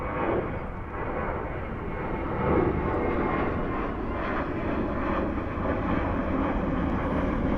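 Airliner departing DFW airport on a Friday evening, a steady jet engine roar at moderate distance that swells slightly midway and persists without talk.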